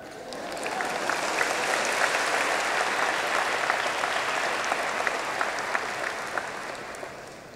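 A large audience claps together at a university graduation ceremony in Vietnam, a dense, sustained wash of applause that swells in and holds steady at full strength without speech.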